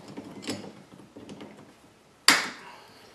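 A hose clamp snaps onto the upper radiator hose of a 2001 Dodge Ram 1500 with one sharp metallic click that rings out briefly, after a stretch of quiet handling and rustling.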